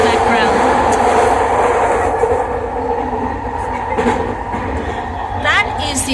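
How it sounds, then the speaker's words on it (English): An old SkyTrain carriage rolls past at Columbia station in Vancouver, a steady loud rumble with rail squeals and clicks, while a voice talks over it. "that was a very old SkyTrain carriage there"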